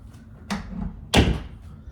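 A bedroom door in a house being shut, heard close as a light knock followed by a firm thud about half a second later, in a quiet room.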